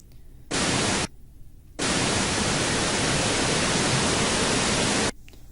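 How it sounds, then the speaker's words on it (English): White noise with a steady, even static hiss, loud and close, played in two bursts: a short one followed by a brief pause, then a longer sustained stretch that cuts off abruptly, with no voices present. "you guys have all heard white noise before. It sounds like static."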